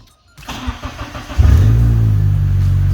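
A car's engine starts in a scrapyard workshop: a brief starter crank, then the engine catches and settles into a loud, steady idle close by.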